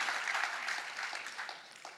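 An audience applauds at a Marathi-language talk event, a dense wash of clapping that stays steady and then slowly fades over two seconds, with no speech on top.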